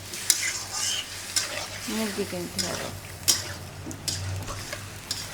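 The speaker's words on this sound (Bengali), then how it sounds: "মাখানি মাংসটুকু দিয়ে দিলাম, মশলা দিয়ে মাখানো" Spice-marinated meat fries in a pan and is stirred, making a crackling sizzle with scraping stirring strokes and small ticks, while someone talks over it.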